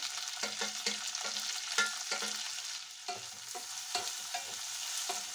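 Onion, ginger-garlic paste and chopped tomato frying in a pan for Assamese murighonto, with a steady sizzle broken by repeated scraping strokes of a spoon stirring close by.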